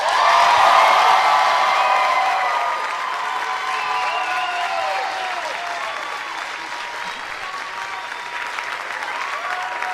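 Crowd applause and cheering for CrossFit athlete Roman Khrennikov at a live event in Cookeville, loudest at the start and then holding steady as a dense, continuous roar with scattered whoops.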